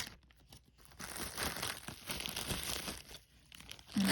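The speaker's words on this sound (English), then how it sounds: "I'm going to go ahead and dump it all out here." Jewelry is dumped out of crinkly plastic bags, with loud crumpling and rustling of plastic and small clattering pieces, close and continuous over a few seconds with no talking.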